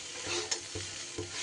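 Fried poppy seeds being stirred into bitter gourd in a pan, a few close scraping strokes of a spatula over a soft sizzle, with no voices.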